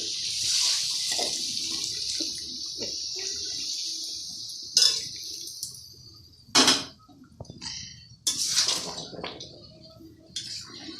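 Water poured into a pot of chicken curry with new winter potatoes, a steady hissing splash that runs on, broken by a few sharper clanks and sloshes, close up.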